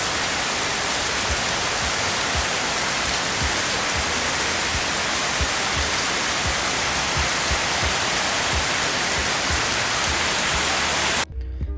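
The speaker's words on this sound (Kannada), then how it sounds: "ಮಳೆನೇ ನಿಲ್ತಾ ಇಲ್ಲ" Heavy, relentless rain pours down in a dense, unbroken roar that holds steady for several seconds and then cuts off abruptly near the end.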